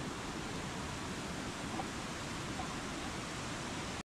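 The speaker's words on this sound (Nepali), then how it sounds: "खोला चाहिँ अलिक कडै आएको छ माथि" A swollen mountain stream on the Langtang trek in Nepal, running high after heavy rain, gives a loud, steady, continuous rushing roar of water with no pauses.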